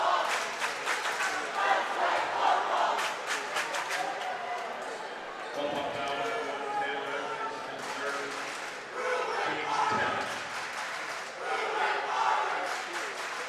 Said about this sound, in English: little back and forth from the cheering sections